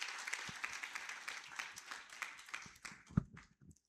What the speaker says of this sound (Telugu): గట్టిగా చప్పట్లు కొడుతూ వారిని ఆహ్వానిస్తాం.